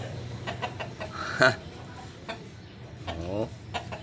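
Young roosters, stags at derby size, cluck and call nearby in scattered short bursts with one louder squawk, while a voice briefly exclaims over them.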